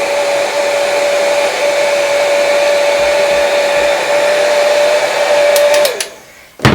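A heat tool blows a steady, loud whirring drone onto embossed craft blocks and bricks coated with embossing paste, running continuously before cutting off near the end with a few clicks.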